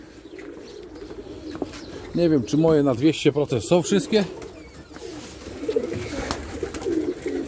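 Domestic pigeons cooing close by, a run of throaty rolling coos in the middle of the clip, with someone talking over and around them.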